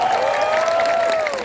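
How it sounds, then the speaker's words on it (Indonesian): An audience at a large Islamic religious gathering in Pamekasan, Madura, claps loudly and steadily throughout, with a sustained tonal whine running through the applause. "Jangan tepuk tangan"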